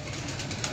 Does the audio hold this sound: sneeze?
no